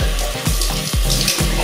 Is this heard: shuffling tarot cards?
no